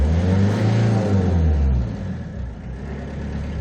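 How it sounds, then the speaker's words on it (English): A white Porter cab truck accelerates smoothly, its engine rising into a loud, steady revving drone close by that eases off after a couple of seconds, with no talking. "Let's try to accelerate. Acceleration is going very smooth."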